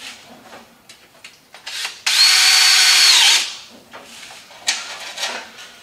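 A power drill drives a screw into a steel stud during window framing, a sharp rising whine that lasts about a second, loud and close, with quieter knocks and handling clatter before and after.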